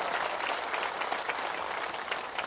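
Crowd at a political rally in Bihar clapping to welcome a guest: a continuous, even patter of many hands heard from some distance, fairly faint but sustained throughout.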